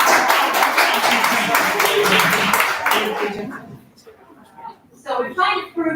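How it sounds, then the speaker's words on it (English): A small group's applause, brisk dense clapping for about three seconds that fades out, followed by a voice talking. "round of applause"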